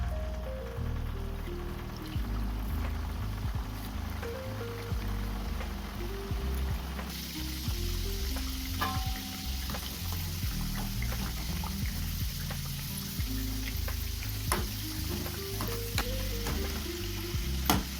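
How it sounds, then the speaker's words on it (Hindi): Litti dumplings deep-frying in hot oil, a steady dense sizzle and bubbling throughout with a low tonal hum underneath and occasional clinks, no voices. "तो चलिए अब तेल गर्म हो गया है। अब डाल देते हैं लिट्टी तलने के लिए।"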